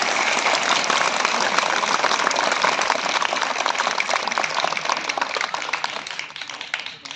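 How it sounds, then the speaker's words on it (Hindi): A large audience at a Ramakrishna Vivekananda Mission gathering in Barrackpore applauds a Swami's speech with dense, sustained clapping that stays loud throughout and eases slightly near the end. "स्वामी जी के भाषण के लिए जरा जोरदार ढंग से तालियां बजा दीजिए एक बार।"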